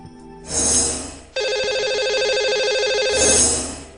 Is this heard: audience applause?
no